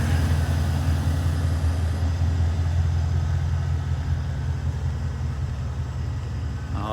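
A 2002 Chevy Z71 4x4 pickup truck engine runs at a steady idle, a loud, close, continuous low rumble that holds evenly throughout with no talk.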